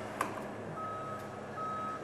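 A truck backing up sounds its reversing alarm, steady electronic beeps repeating at a measured pace, faint and somewhat distant over low engine rumble.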